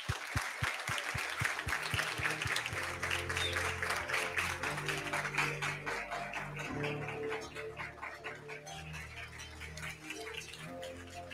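A crowd at a graduation ceremony applauds steadily, clapping loud and sustained for several seconds while music plays underneath; early claps are sharp and distinct before blending into continuous applause.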